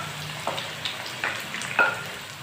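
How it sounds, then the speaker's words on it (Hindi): Large onions go into hot oil with a steady, moderate frying hiss, broken by a few clattering pan knocks and stirring scrapes, no voices over it. "ऑयल हमारा गर्म हो चुका है और अब हम इसमें ऐड करेंगे 4 बड़े साइज़ के प्याज"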